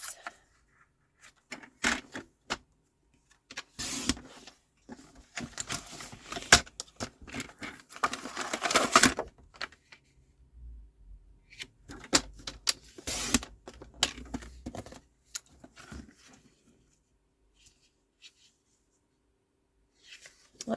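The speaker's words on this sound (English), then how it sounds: "So I'm just going to cut off a section of this." Paper designed for card making is cut by hand at close range, with quiet scraping and snipping strokes coming in irregular bursts separated by silent pauses, with no voices.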